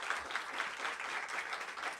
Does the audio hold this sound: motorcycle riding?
no